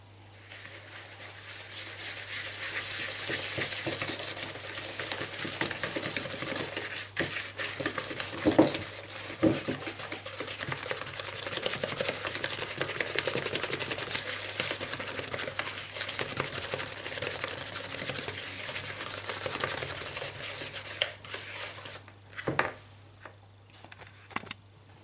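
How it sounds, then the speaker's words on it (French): A whisk beats egg yolks and sugar in a bowl for waffle batter, a continuous close scraping and clinking that rises and falls in intensity, with a few sharper knocks against the bowl. "on va mettre le sucre et on va venir blanchir la préparation"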